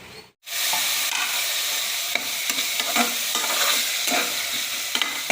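Prawn biryani base with tomato and salt sautéing in a pan: a steady, loud sizzle with repeated stirring scrapes after a brief silent gap at the start, no talk.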